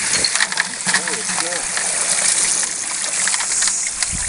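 Water pumped into a vintage Gold Saver trommel splashes and trickles steadily, a hissy, bright rush with a few clinks, close by.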